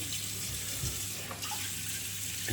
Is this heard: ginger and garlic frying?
no